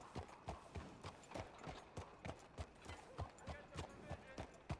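Horse hooves clip-clop in a steady, quick rhythm in Red Dead Redemption 2 on a roleplay server, the sharp hoof strikes evenly spaced and fairly close, with no voices over them.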